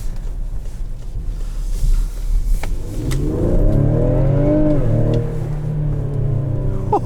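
A 2021 Ford Explorer ST with a 400-horsepower engine accelerating hard. Its note starts low, then climbs and builds into a strong rising roar midway through before holding steady.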